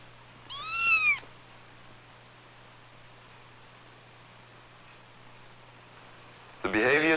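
A cat reacts after being given a drug that affects aggression and fear, letting out one loud drawn-out meow near the start and another harsh cry at the end, with a quiet steady hum between.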